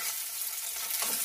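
Onions wilting in hot oil that was just used to fry okra, heard as a short, close, even sizzle with a slight rise in sputter at the end.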